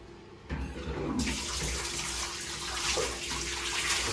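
Water pours steadily from a tap into a basin or tub for washing stained fabric, a continuous rushing splash that starts abruptly and keeps going.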